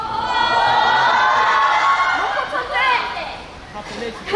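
A large audience at a Jeonju International Film Festival stage talk cheers and shouts loudly and continuously, and the roar fades somewhat toward the end, with voices mixed into the din.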